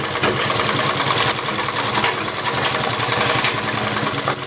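A sewing machine runs steadily, stitching together the joint of a lined magji piece on a Rajputi dress; a continuous, close, mechanical whir with a fast rhythmic needle chatter and no talking.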